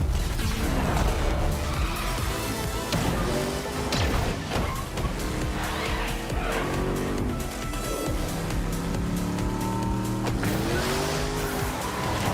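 Racing cars from Rocket Racing roar and whine with tire squeals and engine pitch sweeps, loud and continuous throughout, no talk.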